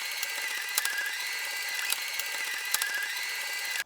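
A sewing machine runs steadily while stitching a cloth face mask with a filter pocket, its fast mechanical whir broken by a few sharper clicks as the seams are locked at each end.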